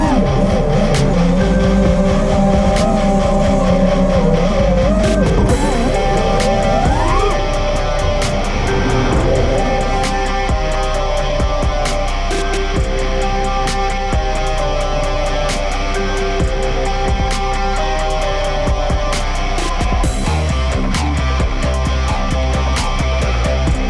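FPV racing quadcopter drones flying practice laps at a racing event, a loud continuous high-pitched buzzing whine of motors with pitch sweeps as they pass, alone without talk.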